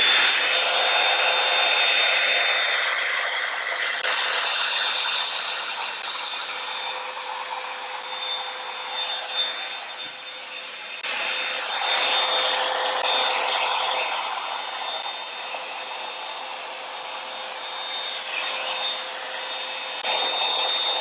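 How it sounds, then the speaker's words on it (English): A hair dryer blows steadily for the whole stretch, a constant airy whoosh that wavers slightly as it moves, fairly close, with no voices. "And then I'm gonna blow dry this for you."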